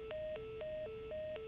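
Touch-tone phone dialing in the video game The Last of Us: a quick run of about five electronic keypad beeps, each a short steady tone at alternating pitches, clear and close with no talking.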